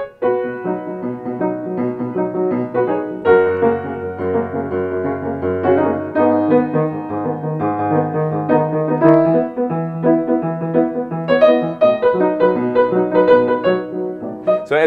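Solo piano playing a pop song as written, a continuous chordal accompaniment with melody on top, close and clear with no talking.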